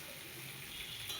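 Tomato chutney is stirred in a frying pan, giving a continuous sizzling, hissing fry with soft scraping of the spoon, close and even throughout with no talking.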